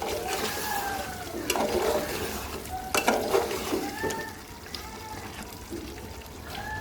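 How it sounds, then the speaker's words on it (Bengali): Chicken meat and potatoes stirred in a pot while cooking down in oil, with a soft sizzle and scraping spoon-against-metal sounds, intermittent clinks, and a faint background voice. "তারপর আলুটা একটু নেড়ে চেড়ে দিব একটু একটু"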